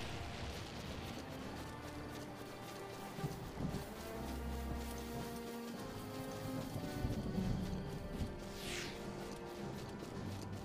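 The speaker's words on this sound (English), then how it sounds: "It's raining." Rain falls in a video game, a soft, steady patter with scattered low rumbles and thuds beneath it, faint and continuous, with no talk over it.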